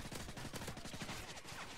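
Rapid gunfire in Modern Warfare 3 multiplayer fills the whole stretch, bursts of automatic shots crackling densely with no pauses and no speech over them.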